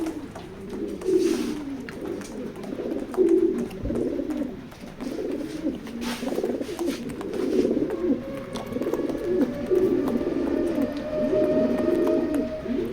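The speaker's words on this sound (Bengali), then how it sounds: "পুরো অ্যাক্টিভ কবুতর" Racing pigeons coo continuously in low, throaty, repeated phrases, several birds close together, with a faint rustle in the background.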